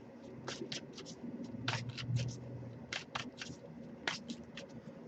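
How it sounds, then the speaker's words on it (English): Quick riffling bursts of cards being shuffled, several short flurries in an irregular rhythm, close by and fairly quiet, with a faint low hum underneath. "I'll give it a couple more shuffles"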